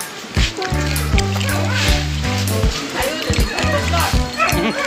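Dogs bark and yip in short repeated bursts close by, with whimpers mixed in, while people talk over them outdoors.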